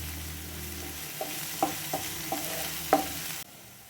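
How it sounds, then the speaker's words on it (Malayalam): Sliced onion, green chili and curry leaves sautéing in a pan: a quiet low sizzle with a handful of distinct spatula taps and scrapes spaced about a second apart, then an abrupt cut to near silence, no voices. "ഇത് മൂന്നും കൂടെ നമ്മൾ ഇന്ന് ഇങ്ങനെ ഒന്ന് വഴറ്റിയെടുക്കുവാണ്"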